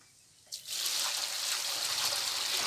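Water pours into a container as 10 litres are measured out for paddy seed treatment. After a short quiet start, a sudden steady, fairly loud rushing stream runs to the end, with no talking.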